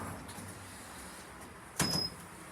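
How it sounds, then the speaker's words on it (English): Lift doors at a shopping centre slide open with a short whirring rush near the end. The sound is brief and close over a quiet indoor hum, with no one speaking. "Doors opening."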